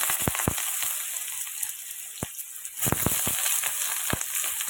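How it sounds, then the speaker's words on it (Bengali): Potatoes, beans and cauliflower frying together in hot oil for chow mein give a steady close sizzling hiss, broken by sharp crackling pops and a few louder spatters. "তো তেলটা গরম হয়ে গেছে, এবার একে একে আমি সব সবজিগুলো দিয়ে দেবো। আর আমি কিন্তু সব সবজিগুলোই একসঙ্গে ভাজবো।"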